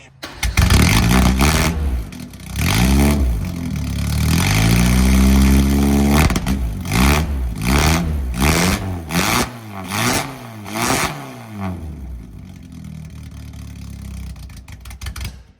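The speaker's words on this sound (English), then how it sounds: "this is what the exhaust sounds like" A Ford Festiva engine starts and idles, then revs repeatedly in sharp bursts, the exhaust roaring up and dropping back, loud and close.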